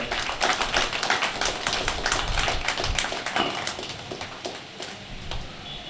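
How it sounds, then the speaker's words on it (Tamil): Audience applause at a Tamil astrology event during a shawl-honouring ceremony: dense, steady clapping from a crowd that runs throughout, gradually thinning toward the end, with no talk. "உங்களுடைய உற்சாகமான கைத்தட்டலோடு"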